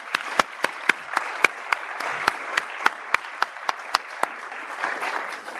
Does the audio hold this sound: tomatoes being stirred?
no